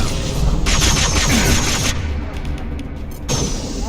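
Grenade blasts in Mass Effect: Legendary Edition, a loud roaring explosion with a long rumbling tail, followed by a second burst near the end, with no speech.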